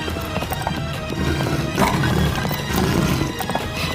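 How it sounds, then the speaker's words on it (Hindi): Horses in a Hindi folk tale bolt in panic while pulling a royal chariot, loud hoofbeats and clattering mixed with neighing and whinnying, a continuous rushing gallop with no talk. "घोड़े रथ को लेकर अंधाधुंध भागने लगे।"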